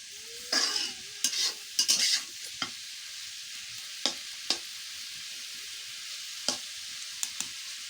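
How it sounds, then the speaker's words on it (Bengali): Food frying in mustard oil in a pan, a quiet sizzle broken by scattered scraping stirs from a utensil, close and otherwise calm. "সরিষার তেল দিয়ে ভাজি করতেছে।"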